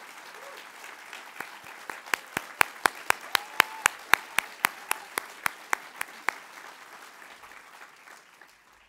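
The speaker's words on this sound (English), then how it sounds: "we should give a big round of applause to the local organizing committee" A conference audience at the opening ceremony of a sociology world congress applauds the local organizing committee, steady hall-filling clapping with a run of sharp individual claps near the front before it fades.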